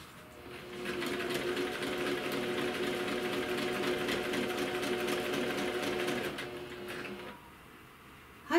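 A sewing machine runs a straight seam without marked guide lines: a quiet start, then a steady, close motor hum with rapid needle rhythm for about six seconds before stopping.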